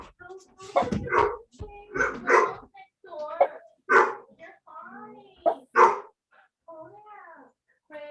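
Puppies bark and yip in a string of short, sharp calls with whimpering cries between them, fairly close, mixed with some speech.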